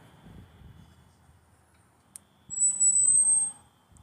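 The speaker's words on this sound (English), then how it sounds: "Why is a fire alarm going off at midnight" A fire alarm goes off at midnight, a thin high electronic tone pulsing for about a second, distant and faint over low outdoor rumble, with no speech.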